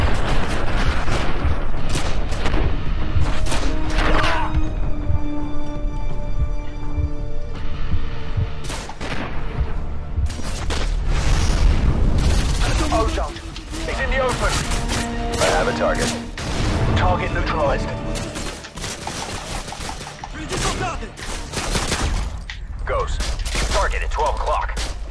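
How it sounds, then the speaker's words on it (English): Gunfire during a pistol breach in Call of Duty: Modern Warfare, with sharp shots and heavy booms scattered across a loud, busy game soundscape, voices talking at times. "Yep, we're breaching with the pistol."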